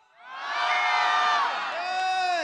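A concert crowd at an outdoor lotus-festival show cheering and whooping, a loud massed roar of many voices that rises, holds and then gives way to higher individual shouts.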